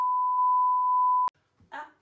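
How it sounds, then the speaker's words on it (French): Electronic beep sound effect: a long steady pure tone held for over a second with a brief blip in it, cut off by a click, followed by faint brief voice sounds. "je veux biper, je veux faire des bips"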